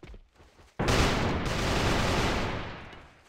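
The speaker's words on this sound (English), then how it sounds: "That was a lot of gunfire." Gunfire in an AVA match erupts suddenly after a quiet moment, a dense sustained burst of overlapping rapid shots that stays loud for a couple of seconds and then fades, with no voices.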